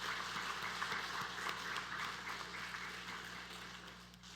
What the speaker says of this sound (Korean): 우리 축복하고 격려하는 박수 한번 하도록 하겠습니다